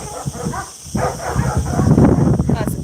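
Dogs at an animal sanctuary bark and yip in scattered bursts amid a busy mix of voices and background noise, with people talking throughout.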